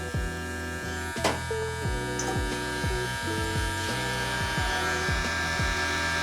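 Electric hair clippers with the lever open buzz steadily and close up while cutting a blowout taper, with repeated pressure-driven dips in pitch as the blade moves through hair.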